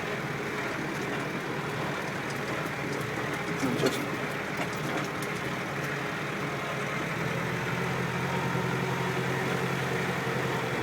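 A Massey Ferguson 390 tractor engine drones steadily and evenly while driving, a close, continuous mechanical rumble with a faint rattle and no voices.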